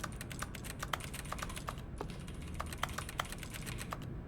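A bucket in the video game The Stanley Parable that gives off rapid computer keyboard typing, bursts of crisp key clicks in quick uneven runs over a faint steady hum, no voices.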